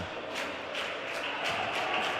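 Crowd at a men's college basketball game, Sauk Valley against Marshalltown, making noise while a player stands at the free-throw line: a steady, distant roar with rhythmic swells like chanting or stamping.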